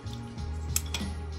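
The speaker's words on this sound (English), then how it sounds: "I'm gonna use tongs to just mix" Metal tongs clink faintly a couple of times against the container while stirring a fabric dye bath for stuffed animals, over a steady low background hum.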